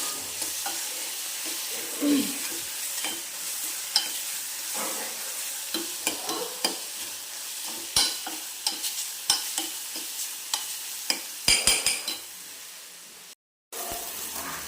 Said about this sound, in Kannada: ಮೊಟ್ಟೆ ಮಸಾಲಕ್ಕೆ ಎಲ್ಲ ಸೇರಿ ಚೆನ್ನಾಗಿ ಇವಾಗ ಫ್ರೈ ಆಗುತ್ತೆ